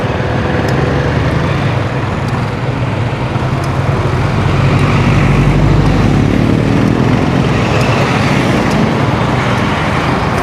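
Steady expressway traffic streams past on the NLEX near an exit, a continuous loud roar of cars, buses and trucks with no break and no voices.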